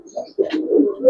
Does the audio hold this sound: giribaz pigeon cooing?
yes